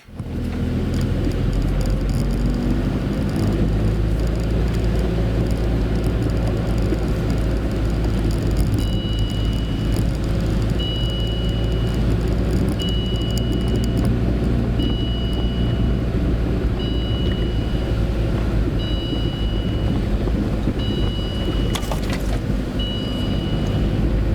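A car rolls steadily along an old abandoned Finnish railway embankment between Vyborg and Sosnovo, a continuous close low rumble of engine and tyres on rough ground with faint intermittent high whine, no talk.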